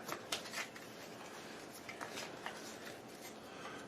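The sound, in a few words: shuffling Pandemic Legacy board game cards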